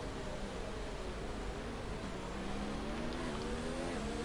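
Formula 1 race cars in the F1 video game during an online league race at the USA round, a steady high engine whine with rising and falling pitch as the car accelerates and shifts, distant and continuous.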